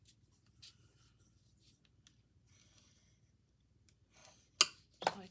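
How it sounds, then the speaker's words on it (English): A tool is rubbed firmly along the fold of an index card, faint scratchy strokes at first and then two louder, sharp swipes near the end, close and without talking. "Then we're going to burnish"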